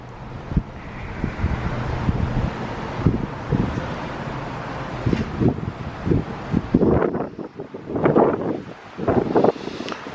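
Wind gusting across the open deck of a cruise ship under way at about 15 knots, a loud, steady buffeting rush with bursts of microphone rumble and swelling gusts toward the end.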